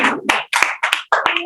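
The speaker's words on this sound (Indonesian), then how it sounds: "kasih tepuk tangan untuk kelompoknya Rozabi" A small audience claps for a student group in a classroom, about five short bursts of hand claps separated by brief gaps, close and fairly loud with no talking.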